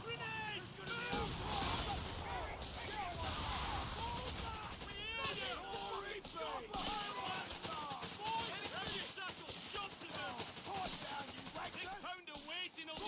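Gunfire in the strategy game Dawn of War III, with repeated shots and bursts of battle fire, fairly quiet and mixed under frequent voices calling out during combat.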